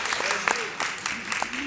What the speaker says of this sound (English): Let's get a round of applause for the fez.